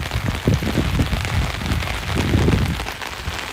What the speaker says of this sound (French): Y'a pas un abri là parce que la pluie c'est hard.